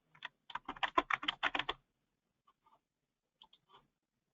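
Rapid keystrokes on a computer keyboard, a quick close burst of clicks followed by silence and a few scattered faint taps.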